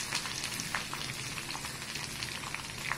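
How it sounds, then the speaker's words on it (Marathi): Tempering of asafoetida and salt in hot oil for khaman dhokla, a close, steady crackling sizzle with fine popping bursts throughout and no one speaking. "अशा प्रकारची फोडणी मी तयार केली आहे"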